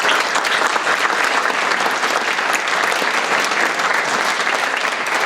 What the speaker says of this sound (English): if there's a couple that deserve an applause, it's those 2 guys